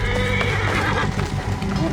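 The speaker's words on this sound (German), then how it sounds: "das sind die ganzen Pferde, womit die kamen" Several horses neigh and whinny loudly over the clop of hooves, close and busy for a couple of seconds, in the video game Assassin's Creed Origins.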